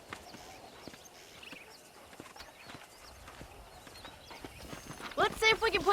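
Horse hooves clip-clop at a steady walk on a ranch in the Red Dead Redemption western video game, with talk over them, a brief whinny and louder clattering hoof hits near the end.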